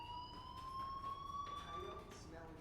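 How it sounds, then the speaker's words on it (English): Fire alarm going off, a steady high electronic tone held continuously at moderate level, with faint background noise and brief voices underneath. "do you hear that fire alarm?"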